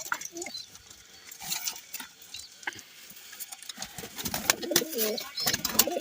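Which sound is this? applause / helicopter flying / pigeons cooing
pigeons cooing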